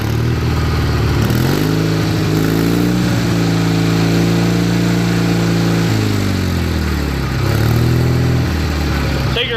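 A Craftsman GT6000 lawn tractor engine runs loud and close, holding a steady idle hum that rises and falls through several revs as the throttle shifts.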